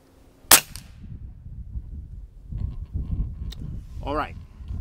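A single sharp Umarex G2 .22 air pistol shot cracks out near the start, a loud close report with a brief ringing tail, followed by low rumbling background and a short voice-like sound.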